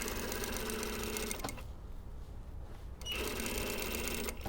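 A sewing machine stitches lining fabric for an all-in-one facing, a steady rapid mechanical whir that halts briefly for about a second and a half and then resumes, close and even.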